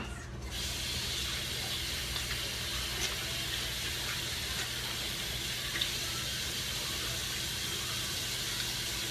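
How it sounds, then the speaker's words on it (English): Tap water runs steadily into a sink while someone washes their hands, a constant close splashing flow after a brief start. "Let me go wash my hands."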